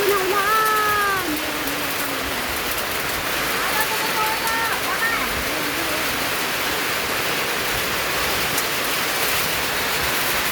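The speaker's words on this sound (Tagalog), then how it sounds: "Ayan, lakas ng ulan." Heavy rain pours steadily over a farm in a dense, unbroken hiss that fills the scene, with a brief high whistle-like call early on and no talk.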